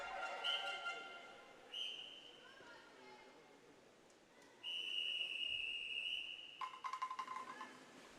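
Shrill whistle blasts ring out at a Scottish national age-group swimming championship finals session. Several short pips come first, then one long sustained blast, with a few clipped chirps after it, all inside an echoing pool hall.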